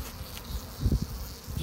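Honey bees in a hive being fed in spring buzz faintly among the frames, a soft insect hum with a few brief, slightly louder bursts of buzzing.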